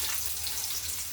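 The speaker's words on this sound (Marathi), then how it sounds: "आता याच्यामध्ये कांदा भाजून घेऊ." Onion frying in a pan for a Vidarbha-style curry, a steady soft sizzle and hiss, faint and close, with no talk.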